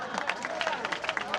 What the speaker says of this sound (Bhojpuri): ताली बजाना यार।